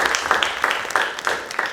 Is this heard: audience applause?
yes